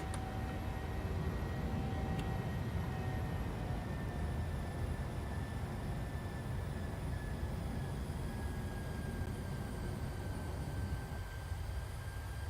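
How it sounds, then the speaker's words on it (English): Boeing airliner going around in Microsoft Flight Simulator 2020 with flaps and landing gear retracting: a steady, loud broadband engine roar and rushing wind that holds constant for the whole stretch, with a faint whine running above it. "So we're going around, flaps are retracted. Gear is coming up."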